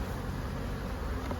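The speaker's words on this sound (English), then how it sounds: "I'll just shake the bees straight down into here." Honey bees shaken from hive frames into a box, a continuous close buzzing drone of many insects, steady and moderately loud without any voices.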